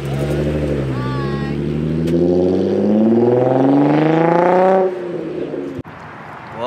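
Car engine fitted with a Motordyne arc pipe exhaust revs up close, the tone climbing steadily for several seconds before dropping off, with a voice talking over the start.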